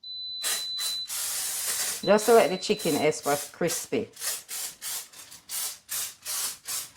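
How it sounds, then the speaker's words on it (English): Avocado oil sprayed from a pump bottle onto chicken wings on a tray, a run of short, close hissing bursts in steady rhythm, with a voice talking over the first few seconds. "I'm going to go ahead now and spray some avocado oil."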